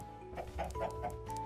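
A Minecraft chicken clucking in short, close, repeated clucks, about five over a second and a half, above a low steady game background.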